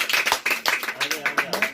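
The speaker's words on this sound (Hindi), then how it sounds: "ताली बजाओ" Children clapping their hands in a classroom, a quick irregular burst of light claps lasting under two seconds, close and fairly soft.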